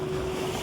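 Sea waves wash in a brief, continuous rush, with wind buffeting the microphone and a steady low hum beneath.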